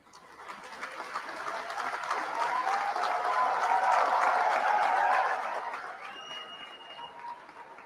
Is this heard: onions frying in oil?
no